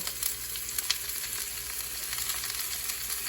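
Banana heart sizzles steadily in a pan with sautéed onion and garlic, a close, continuous crackling fry with a few sharper pops and no voices.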